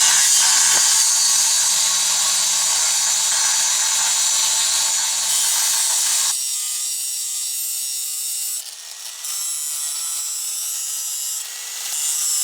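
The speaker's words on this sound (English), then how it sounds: "now we're just going to rough grind it out with an angle grinder with a grinding wheel on it" An angle grinder with a grinding wheel rough grinds a 1/8 inch steel knife blade, giving a loud, continuous, harsh abrasive roar that shifts to a steadier whine partway through, with brief dips in intensity.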